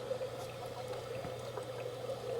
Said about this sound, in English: Some more of the minnows with our bubbles going up through them